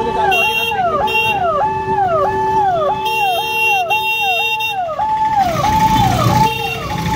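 A wailing ambulance siren sweeps up and down repeatedly close by in crowded Saturday market traffic in Ranchi, loud and insistent, with traffic noise underneath.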